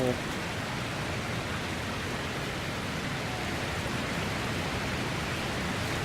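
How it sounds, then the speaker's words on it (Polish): A waterfall in the video game Dragon Age: Inquisition pours with a steady, dense rushing roar of water, an even broadband wash that holds constant throughout. "fajny wodospad"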